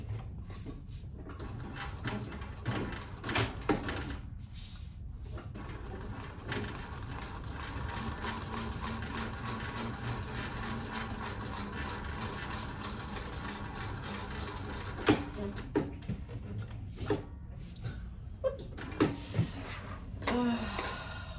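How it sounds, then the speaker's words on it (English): A home sewing machine runs steady top stitching along a tote bag at an eighth-inch seam, a continuous close mechanical whir with brief pauses and small clicks near the end. "we're gonna top stitch at 1/8 of an inch"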